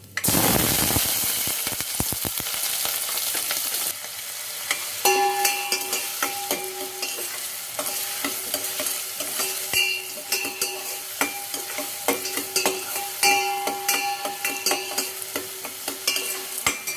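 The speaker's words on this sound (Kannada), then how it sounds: "ಇದು ಸ್ವಲ್ಪ ಫ್ರೈ ಆಗಲಿ." Onion and a bay leaf frying in oil as the base for a paneer, potato and pea gravy: a loud hiss as they hit the pan, then a long steady sizzle with repeated spatula scrapes and clicks, close up, no talking.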